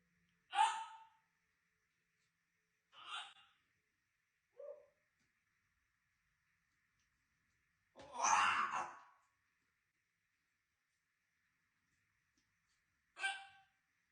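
African grey parrot making dramatic hiccup-like sounds: five short, isolated gasping bursts spread across a quiet stretch, one longer and fuller near the middle, each alone with silence between.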